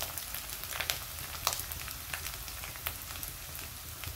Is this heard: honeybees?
no